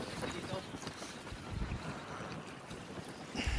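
Strong wind buffets an open boat out on the water, roaring steadily as broadband rushing noise with gusty swells, and a person's voice comes through faintly underneath.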